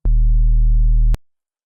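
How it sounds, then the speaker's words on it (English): A steady, deep sine-wave sub bass tone holds the root note for about a second, smooth and pure, then cuts off abruptly with a brief click. "the way that I've made my sub is by grabbing a basic sine wave"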